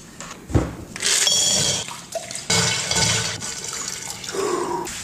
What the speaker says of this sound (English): That dunking his head into the bowl of water is his signature move.